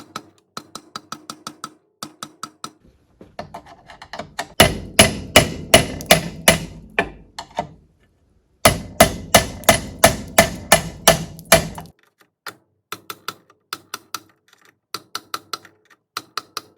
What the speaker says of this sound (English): begin tapping or chiseling to break it loose